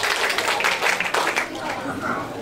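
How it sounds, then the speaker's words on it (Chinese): Audience applause for children at a hands-on physics science show, a dense, steady patter of many clapping hands filling the whole stretch, with voices mixed in. "我们也小朋友鼓掌一下"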